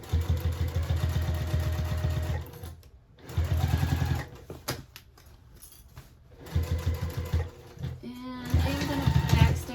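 A sewing machine back stitches a tote bag seam in several short bursts of fast, rhythmic needle clatter separated by pauses, with soft handling noises between runs.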